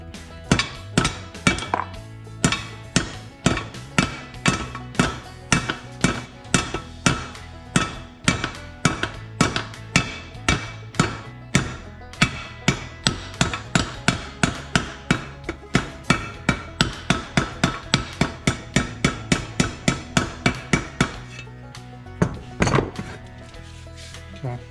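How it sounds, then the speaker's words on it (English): A claw hammer strikes bent metal on a 1984 Chevy truck part, dozens of sharp ringing blows in a quick, steady rhythm, close and loud, pausing briefly before a final few hits. "Now I'm going to work on this a little bit with my claw hammer."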